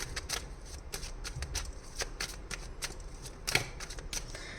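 Tarot cards are shuffled and drawn by hand, giving a close, steady run of crisp riffling flicks and soft slaps with a sharper snap near the end.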